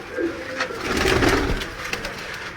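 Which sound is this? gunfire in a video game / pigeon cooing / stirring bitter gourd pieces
pigeon cooing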